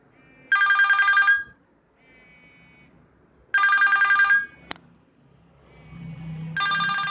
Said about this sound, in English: A simple ringtone is better for me.